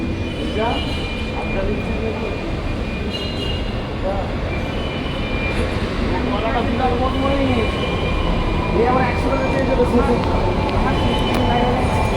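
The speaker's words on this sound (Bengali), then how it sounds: "মেট্রো চলে আসার পর আমরা মেট্রোতে উঠে বসেও পড়েছি" A Kolkata metro train arrives at a station with a steady, loud rumble and rising mechanical hum lasting throughout, with a crowd murmuring and voices in the background.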